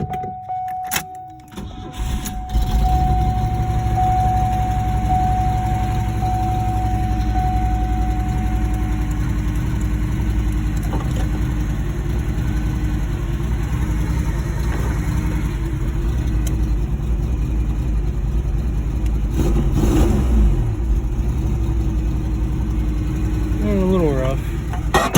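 A 1994 Pontiac Sunbird engine cranks and catches after a couple of sharp bursts, then settles into a steady, loud idle that runs alone for over twenty seconds, with a brief whine near the end.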